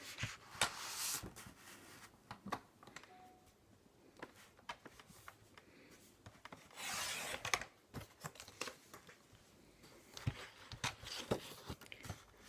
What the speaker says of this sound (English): I'm just going to trim off a little more from each of the sides